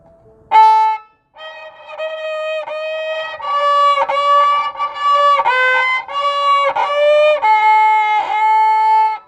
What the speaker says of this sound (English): Too close to the bridge, or it'll sound like this.